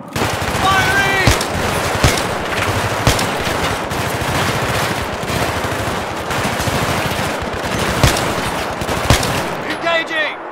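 Video game gunfire in Battlefield 3 rattles almost without pause in rapid automatic bursts and heavier single shots, loud and close, with radio-style voices breaking in at times.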